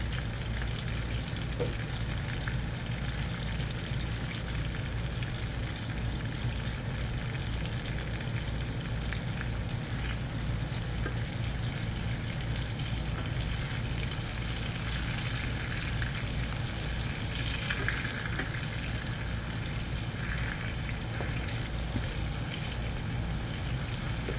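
Eggplant slices sizzle steadily in hot oil in a home kitchen pan, a dense continuous crackle running throughout with a faint fan hum behind it.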